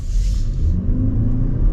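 A 2023 Toyota RAV4 Prime plug-in hybrid accelerates with a loud, steady engine rumble and road noise heard from inside the cabin, while a person makes brief surprised exclamations.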